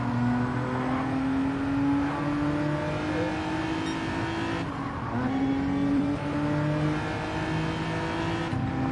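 A race car engine in Gran Turismo 7 drones steadily at high revs, the pitch dipping and climbing again through gear changes, loud and continuous with no talk.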